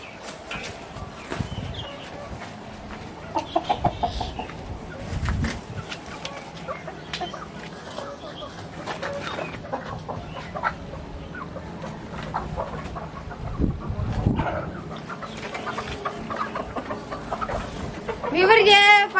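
Aseel chickens on a Pakistani hen farm cluck and scratch while being fed millet, a busy spread of close clucks and pecking noises with occasional talk mixed in.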